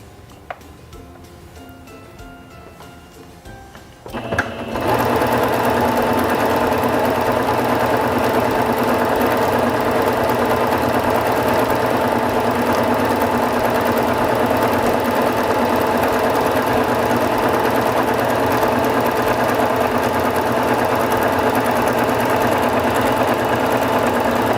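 A SINGER Fashion Mate 5560 sewing machine stitches a wide decorative pattern, starting after a few quiet seconds and then running in a loud, steady, rapid mechanical whir with an even rhythmic clatter.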